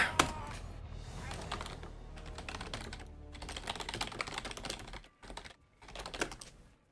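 Rapid clicking of a computer mouse during a League of Legends Arena match: dense, continuous close clicks and key taps with brief gaps, fairly loud and busy throughout.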